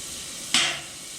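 Butter hitting a hot griddle as a smash burger cook begins, one sudden close sizzling burst that swells and then eases into a steady soft hiss.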